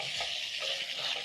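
Liver searing in a hot pan for a liver stew gives a faint, steady sizzle that holds evenly throughout with no talking.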